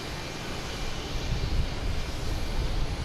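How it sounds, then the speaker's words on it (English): A JetBlue Airbus A321 arriving from Aruba at Boston Logan International Airport, heard as a steady broadband jet roar that swells slightly and holds at moderate loudness without talk. "Next coming in is a JetBlue and A321 from Aruba."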